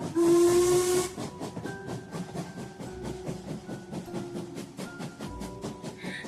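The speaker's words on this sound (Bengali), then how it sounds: "সন্ধে 7টার সময় ট্রেন ছেড়ে দিল।" A steam train gives a loud, hissing whistle for about a second as it departs, then settles into a steady, rhythmic chuffing that keeps going, with no one talking.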